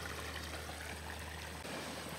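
Water flows steadily through a garden water feature fed by a 620-gallon pond, a soft continuous trickling wash with no breaks, faint and evenly sustained.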